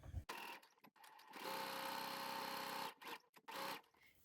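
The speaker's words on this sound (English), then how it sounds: "Start with the needle down, and you can back tack and start your seam line" Sewing machine running a straight stitch through boiled wool, a steady mechanical whir lasting about a second and a half, then short stop-start bursts, close and clear.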